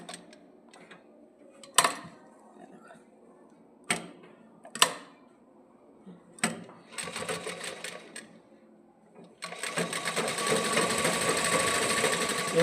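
A domestic sewing machine stitches fabric along a garment neckline in short stop-start bursts, loud and close, ending in a longer steady run of rapid stitching.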